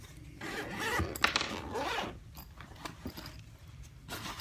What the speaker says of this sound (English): We'll unzip in here.